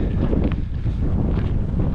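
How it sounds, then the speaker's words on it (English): Loud, rumbling wind buffets the microphone continuously, a dense low roar with no voices. "it's windy"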